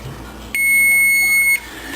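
A kitchen timer goes off after 15 minutes of cooking rice, sounding one steady, loud electronic beep lasting about a second, close by, against quiet room tone.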